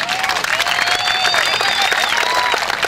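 A crowd applauds loudly for performers at an outdoor Workers' Day ball-freestyle show in Buenos Aires, dense clapping with a few whistles and shouts rising over it.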